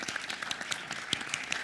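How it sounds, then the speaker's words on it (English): Sparse, scattered clapping from a forum audience greeting the panelists at a live event on ASEAN and Indo-Pacific issues, fairly quiet with no voices over it. "please join me to give a big round of applause to our panelists here today"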